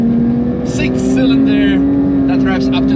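The naturally aspirated 4-liter flat-six of a Porsche GT3 holds a steady, loud engine drone on an icy Nürburgring, with someone talking over it throughout.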